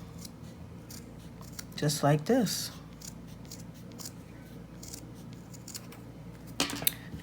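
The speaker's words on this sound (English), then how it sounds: "So I'm going to take my scissors" Scissors trim the edge of a handmade earring with a couple of crisp, close snips in quick succession, then a single later snip, while a person speaks softly nearby.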